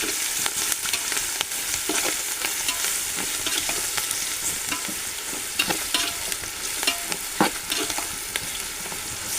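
Poha chivda for Diwali fries loudly in a pot and is stirred constantly, giving a dense, close crackle broken by the repeated scrape and rustle of the flakes being turned, with no voices.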